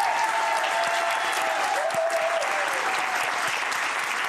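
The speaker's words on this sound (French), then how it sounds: "On applaudit encore monsieur Vladimir Cosma." A television studio audience applauds composer Vladimir Cosma, a full, steady wash of clapping with a faint tonal sweep briefly audible beneath it.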